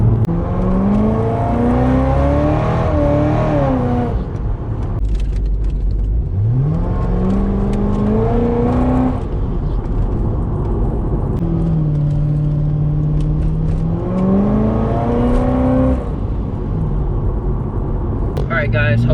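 A 700 hp Chevrolet Corvette revs and accelerates hard through several gears, its engine pitch rising and falling in repeated pulls, loud and close, with someone talking over it.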